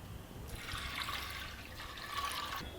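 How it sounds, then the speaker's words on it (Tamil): Water poured from a vessel onto rinsed toor dal in a pot for boiling, a steady soft splashing stream lasting about two seconds, fairly faint and with no talk. "இப்போ நம்ம வேக வைக்கிறதுக்கு தேவையான தண்ணி ஊற்றிடலாம்"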